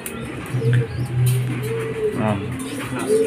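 Racing pigeons arriving at a derby loft coo in low throbbing calls with a few brief chirps, close by, while someone talks over them.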